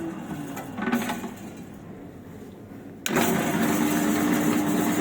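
Sinmag SM-201 professional planetary dough mixer, used, shifting up to third speed: a steady mechanical whir steps up abruptly to a louder, higher-pitched motor drone kneading dough, close by.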